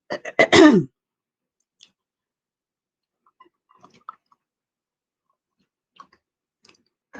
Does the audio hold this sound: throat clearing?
yes